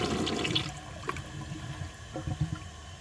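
A Gerber Aqua Saver toilet from 2004 flushes a washcloth, a loud rush of water at the start that falls quickly into weak gurgling and trickling, with a few small knocks and drips near the end.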